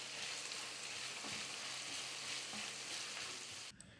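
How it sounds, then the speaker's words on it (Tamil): Sliced onions sauté in hot oil in a kadai for a samosa filling, giving a steady, close sizzle with occasional stirring scrapes that stops abruptly near the end. "வெங்காயம் பார்த்திங்கன்னா ஓரளவுக்கு இந்த மாதிரி வதக்கி எடுத்துக்கிட்டால் போதும்"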